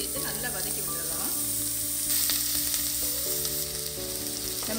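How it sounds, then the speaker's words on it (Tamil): Onion, curry leaves and raw banana sauté in hot oil, giving a steady close sizzle and frying crackle with occasional stirring scrapes throughout. "இந்த கட் பண்ணி வச்சுருந்த மிச்ச வெங்காயத்தை இது கூட சேர்த்து கருவேப்பிலை சேர்த்துட்டு நல்லா வதக்கி விட்டு வாழைக்காயும் இது கூட சேர்த்து நல்லா வதக்கி விட்டுடலாம்"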